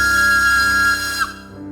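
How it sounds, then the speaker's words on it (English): A toy engine whistle blowing in a children's audio story, one sustained shrill tone lasting about a second that drops and fades out, loud and close. "So with a blow of his whistle"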